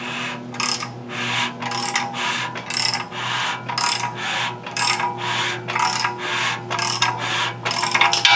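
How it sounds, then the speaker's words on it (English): An oil pump is turned over during a rebuild of a 2007 Chevy 5.3 engine. It gives a close, rhythmic ratcheting clatter of about fourteen evenly spaced bursts, with a low steady hum underneath. "Now when I turn this pump over,"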